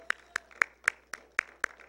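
A congregation claps hands in a sharp, regular rhythm, roughly four crisp claps per second. The claps ring out clearly over a quiet room with no talk.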